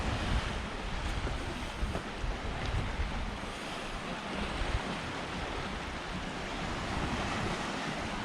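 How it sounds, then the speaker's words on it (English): Small sea waves wash continuously onto the shore at Camp de Mar, a steady soft surf hiss mixed with gusts of wind buffeting the microphone. "A few little waves now picking up, nothing too big, but definitely a few little waves."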